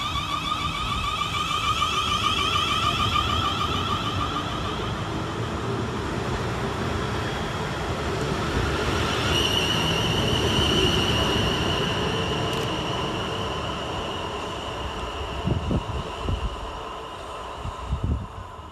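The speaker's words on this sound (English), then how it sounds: "we see the departure of 450-096, working the 1219 South Western Railway service from Bournemouth through to Winchester" A South Western Railway class 450 electric multiple unit departs a station on a Bournemouth to Winchester service, its rising motor whine and steady rumble of wheels on track building, with a high tonal hum and clatter of wagons close by.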